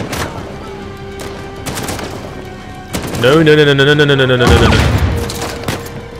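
Gunfire in Uncharted 4, a quick run of close, punchy shots followed by a louder burst with a sustained metallic ring, while game voices and a player's short remark sound over it.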